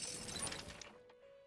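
A train crashes in the video game Persona 5 Tactica: a loud burst of shattering, smashing noise that fades after about a second, leaving a faint lingering tone and small scattered clinks.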